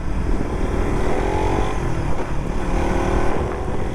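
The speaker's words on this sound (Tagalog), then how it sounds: "mabilis itong motor na to" The engine of a Suzuki Raider Fi motorcycle runs steadily and close by. It holds a loud, continuous drone with slight rises in pitch, and no voices are heard.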